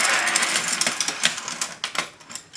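A flurry of clattering and rustling as objects are shuffled and moved across a table, with sharp knocks scattered through the busy noise.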